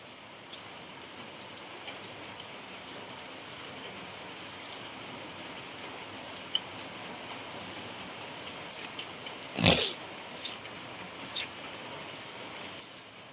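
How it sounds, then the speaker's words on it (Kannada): Light rain falls steadily in a village, a faint, even patter with a few sharper drips and a brief louder rustle near the end, no talking. "ಆದರೂ ಇವತ್ತು ಚಾಲು ಆಗೈತೆ ನೋಡ್ರಿ ಸಣ್ಣಗೆ ಮಳೆ."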